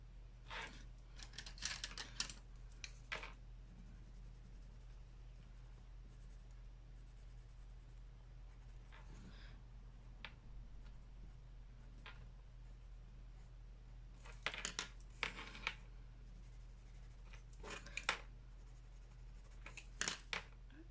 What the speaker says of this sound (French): on va prendre les petits crayons comme ceci